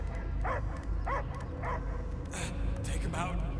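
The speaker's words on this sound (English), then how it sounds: "I hear only barking." Dog barking in Marvel's Guardians of the Galaxy video game: several short barks and yips recur at a steady pace over a dense ambient game backdrop, fairly close and moderately loud.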